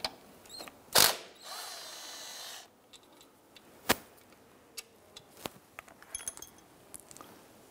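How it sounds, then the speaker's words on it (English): A wrench and socket loosen shock absorber bolts on a 1999-2004 Jeep Grand Cherokee, with a sharp metallic crack, a brief whir, then a run of quick close ratchet clicks and taps, with no voices. "I'm going to loosen and remove these bolts"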